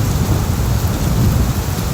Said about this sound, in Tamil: அப்போ திடீர்னு அந்த காட்டுல மழை பெய்ய ஆரம்பிச்சிருச்சான்